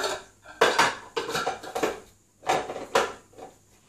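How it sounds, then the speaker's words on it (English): Breadcrumbs tipped into a bowl while preparing homemade meatballs: a series of close clinks and scraping knocks of a utensil against the dish, coming in uneven bursts with short pauses between. "take my breadcrumbs and put it into my bowl"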